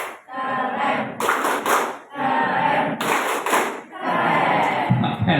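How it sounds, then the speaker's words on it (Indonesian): A group of people clapping together in bursts at a campus gathering, loud and close, with several rounds of applause separated by short pauses. "Oke, tepuk tangan sekali lagi."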